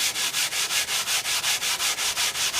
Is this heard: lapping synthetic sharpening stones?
yes